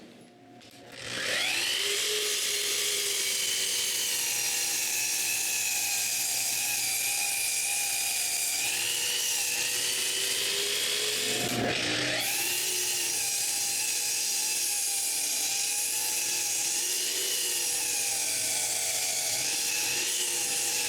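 Power tool trimming the straight edges of a screwed-down wooden piece for a snowshoe rack, a steady loud whining cut running almost continuously, with one brief dip and restart near the middle.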